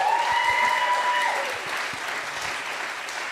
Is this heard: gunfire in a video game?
no